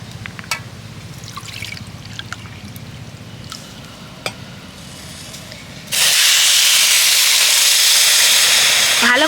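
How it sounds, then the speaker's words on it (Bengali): Sugar and water heat in a wok to make syrup for semolina motichoor laddu. Quiet kitchen clatter with a few sharp clicks gives way to a loud, steady broadband hiss that holds for the last few seconds. "ভালো করে চিনির রসটাকে ফুটিয়ে নেব।"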